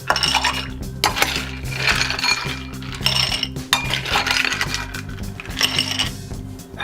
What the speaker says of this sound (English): Next, we're going to add some ice.